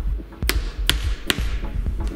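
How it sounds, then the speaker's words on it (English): A plastic hammer taps a cam into place on a bicycle brake lever. Three crisp, evenly spaced knocks sound up close over a faint low hum, followed by a softer fourth tap. "I actually like to give it a tap with a plastic hammer to make sure that it's down properly"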